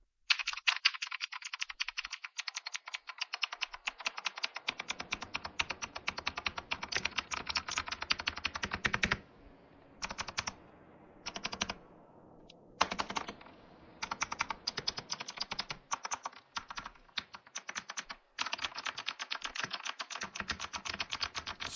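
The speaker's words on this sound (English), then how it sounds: "As you can hear, the sound of this keyboard is extremely good." Rapid clacky typing on a budget computer keyboard, close and crisp, in continuous bursts with a few short pauses between runs.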